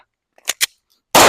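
A Glock 45 pistol fires two sharp shots in quick succession at an outdoor range, followed a moment later by a third loud blast that cuts off abruptly.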